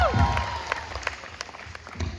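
Audience applause at a PW Aagaz event in Bhubaneswar, a loose patter of clapping after a brief voice at the start, fading into scattered claps at moderate distance.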